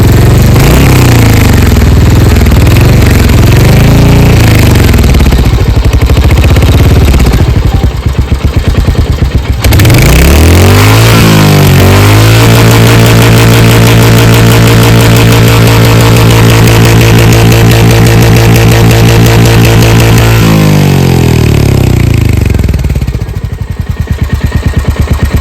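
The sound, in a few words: Royal Enfield Hunter 350 motorcycle engine beating sound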